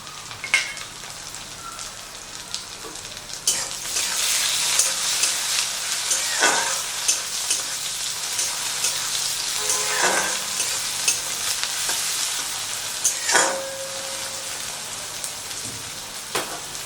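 Chopped tomato frying with lightly fried onions in a pan for a Bengali-style nenua (sponge gourd) dish, giving a steady close sizzle with scraping stirring strokes throughout, no talking.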